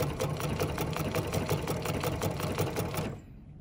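Sewing machine running steadily for about three seconds while stitching a decorative feather pattern, a fast even mechanical patter up close, then stopping abruptly.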